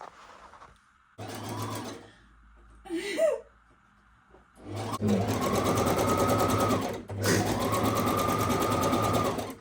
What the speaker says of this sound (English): I'm gonna sew the pieces together at the edging seams